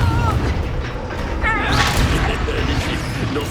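Fiery Confringo spell blasts in Hogwarts Legacy combat erupt as loud booming crashes with whooshing sweeps, amid dense battle noise and overlapping voices.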